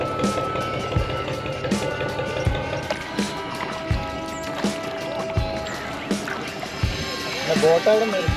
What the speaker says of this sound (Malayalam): ബോട്ട് ജെട്ടി വിട്ട് തുടങ്ങിയിട്ടുണ്ട്.